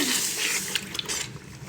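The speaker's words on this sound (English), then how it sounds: "Fill up some more water." Tap water runs steadily into a bucket in a mudroom, a soft continuous rushing and splashing at moderate distance with no talk.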